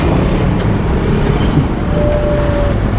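A large truck passing in daytime road traffic, a loud, steady low rumble of engines and road noise, close and continuous throughout.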